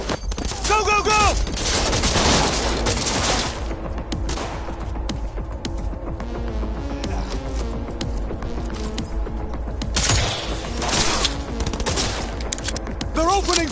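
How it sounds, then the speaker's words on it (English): Rapid gunfire erupts in Cyberpunk 2077 as a loud, sustained fusillade of overlapping shots and bursts. It swells and eases in waves, with brief shouted voices near the start and end. "They're opening fire!"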